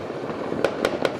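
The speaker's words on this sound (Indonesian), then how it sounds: "kota Samarinda yang sepanjang mata memandang sebenarnya penuh dengan kembang api yang tidak henti-hentinya" Fireworks over Samarinda city at New Year go off in distant rapid pops, four evenly spaced sharp bangs over a continuous crackling rumble.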